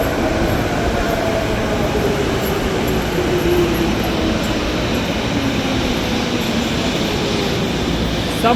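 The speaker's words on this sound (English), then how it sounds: "We're on an underground train, Zane." An underground subway train in Tokyo runs through a tunnel, its constant rolling rumble carrying a slowly shifting whine as it travels, loud and enveloping from start to finish.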